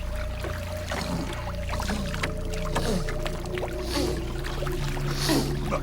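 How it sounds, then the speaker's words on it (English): A red-tailed catfish of about 20 pounds, held out of the river, pushes air over its gills in wet gurgles, soft clicks and croaking pulses, close and fairly quiet against a faint steady hum. "That noise is just air being pumped over the gills instead of water."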